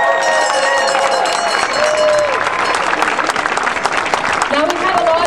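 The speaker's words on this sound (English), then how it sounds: "Give yourselves a hand." A crowd at an Edmonton rally against public education cuts breaks into sustained, dense clapping with scattered cheers, loud and near, and voices carrying over it.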